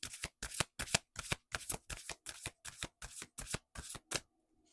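A deck of oracle cards shuffled by hand in a quick, regular series of about a dozen crisp riffling bursts, close and clear, ending in quiet.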